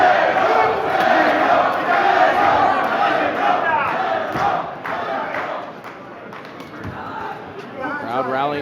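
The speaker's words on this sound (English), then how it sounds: "Crowd rallying behind BAzinyan here." A boxing arena crowd roars and cheers for fighter Bazinyan, a loud, dense wash of voices that swells and then gradually eases, with a commentator talking over it.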